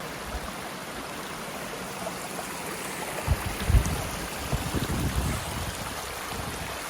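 A river flows beside a hiking trail on the Appalachian Trail, a steady rushing wash of water heard nearby, with a few soft bumps and rustles rising briefly midway and no talk.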